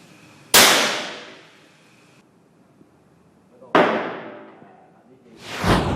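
Gunshots ring out at a shooting range from a heavy handgun, three loud sharp cracks each followed by a long echoing decay, spaced a few seconds apart.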